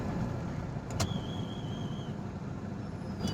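A car moves slowly through heavy festival-night traffic near RK Beach in Vizag, a steady low engine and road rumble from inside the cabin, broken by a brief sharp click and a faint tone.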